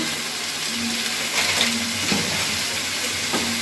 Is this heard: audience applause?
no